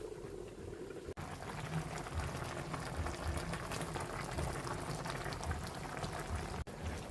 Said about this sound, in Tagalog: Antay na lang natin maluto yung ating talong at pechay.